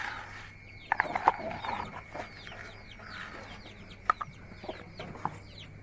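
Newly bought Aseel chicks cheep in a flurry of thin, high peeps while waiting for feed, many overlapping chirps at low to moderate level with a few sharper calls standing out.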